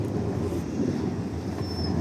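A red tram rolls past on a street in Lviv, its steady low rumble and wheel noise filling the whole stretch at close range, with a brief high squeal near the end.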